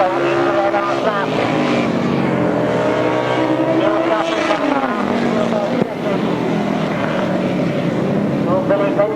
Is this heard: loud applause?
no